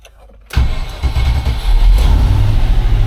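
Turning on the ignition of a 1989 Range Rover Vogue SE brings a sudden loud, low electrical and mechanical hum after a moment of near silence, holding steady and swelling slightly, close up and without speech.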